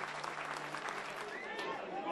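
Lively crowd at a Bromley football match applauding, a brief steady clatter of clapping heard at a distance under commentary.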